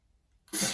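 A single sharp sneeze erupts suddenly after near silence, a brief loud burst close by during a classroom lesson.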